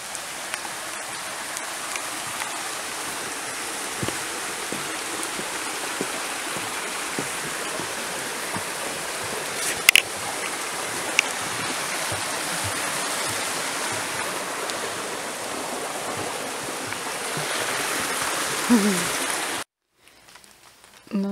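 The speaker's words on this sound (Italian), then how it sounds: "qua c'è il ruscello" A forest stream flowing along a woodland trail in the UK, a steady close rushing and splashing of water that continues throughout before cutting off near the end.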